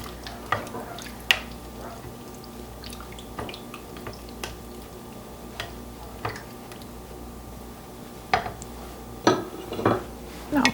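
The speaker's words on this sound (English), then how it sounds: "We'll add 1 cup of orzo pasta and 1 cup of heavy cream. And I'll stir that together here." Orzo pasta and heavy cream being stirred in a Crock Pot slow cooker, sparse spoon clinks and knocks against the pot over a low steady hum, fairly quiet with no speech.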